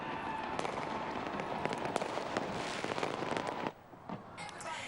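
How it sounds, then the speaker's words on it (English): Dense New Year's Eve fireworks crackle and pop in rapid bursts, loud and continuous, then thin out briefly before more scattered bangs return near the end. "the country counted down to the start of the new year with a laser show and fireworks display"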